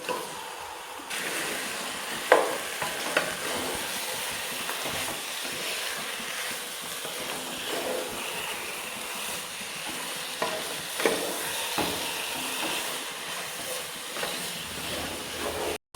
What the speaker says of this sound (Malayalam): ഇനി നമുക്ക് ഈ മസാലയിലേക്ക് നമ്മൾ മഞ്ഞളും ഉപ്പും ഇറക്കിയ ചിക്കൻ ചേർത്ത് കൊടുക്കാം കേട്ടോ.